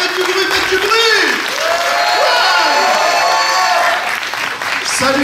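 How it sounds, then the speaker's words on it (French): An audience at an eloquence contest in Aix claps and cheers loudly and continuously, a dense roar of applause with whoops, while an amplified voice talks over the crowd throughout. "Un tonnerre d'applaudissements, s'il vous plaît!"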